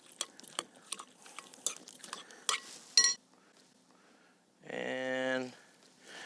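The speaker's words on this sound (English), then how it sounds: "a little more garlic, some salt, fresh cracked pepper, and let's give this a little mix" A utensil stirs garlic, salt and fresh cracked pepper in a bowl for nacho prep, making a run of quick scraping clinks, followed by a brief pause and then a steady tonal hum.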